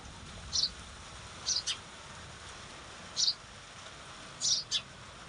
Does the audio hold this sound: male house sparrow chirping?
yes